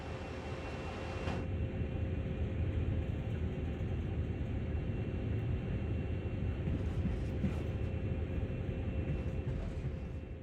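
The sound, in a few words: train coasting along in a video game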